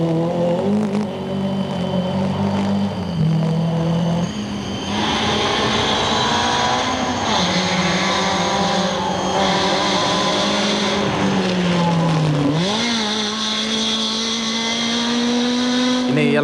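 A Subaru Vivio rally car, crewed by a Japanese pair, drives a stage of the 1994 Rally of Malaysia, its engine droning and revving steadily throughout with brief tire noise, fairly loud.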